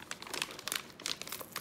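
Anti-static plastic wrapping around a GTX 1660 Ti graphics card crinkles in quick, irregular bursts of close, crisp rustling that fade in and out with no talking.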